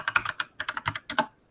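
Rapid typing on a loud computer keyboard, about a dozen sharp clattering keystrokes in quick irregular bursts, close and alone with no talk.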